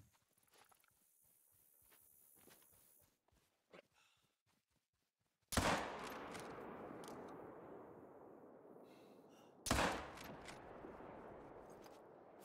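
Two loud rifle shots from a Coachmate Lever .45-70 in the hunting video game Hunter Call of the Wild, a few seconds apart, each a sharp blast trailing off in a long rolling echo after a stretch of faint ambience.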